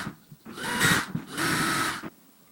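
A power drill bores holes in a door for a plastic handle, with two close whirring bursts of roughly half a second and one second, separated by a brief pause.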